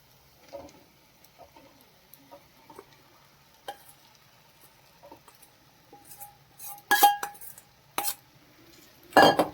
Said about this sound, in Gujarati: અને હવે આપણે બંને વસ્તુને સરસ મિક્સ કરી અને તેમાં આપણે તુવેરના દાણા જે ક્રશ કર્યા છે તે એડ કરીશું